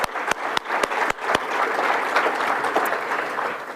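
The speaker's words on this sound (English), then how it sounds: "Another round of applause to everyone." A few sharp separate claps open into steady applause from an audience at a Canadian Club event on Indigenous participation in project development, continuous and moderately loud throughout.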